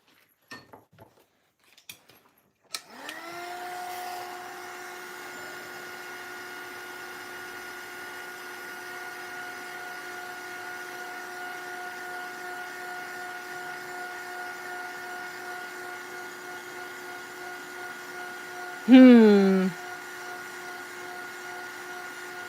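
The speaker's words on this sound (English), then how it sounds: "And then we dry everything with the heat gun." A heat gun drying a mixed-media collage whirs steadily at close range for about twenty seconds after a few clicks of switching on, its pitch dropping sharply near the end as it powers down.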